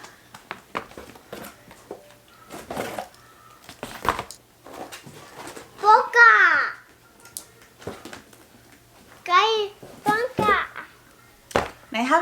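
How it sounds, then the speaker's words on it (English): A toddler plays and babbles nearby in a home, giving short high squeals and vocal bursts among light handling clatter while an adult talks in between. "if you hear little noises, my toddler's down here in front of me playing"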